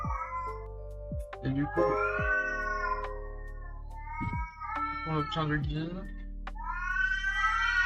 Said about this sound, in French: Et on le donne au chat.